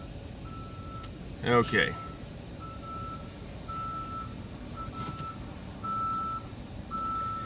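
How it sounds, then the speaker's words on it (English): A truck at a truck stop reverses with a steady series of evenly spaced electronic beeps at moderate distance over a low engine rumble, while someone says a brief word nearby. "They really should take those beepers and have switches on them for when they go to truck stops"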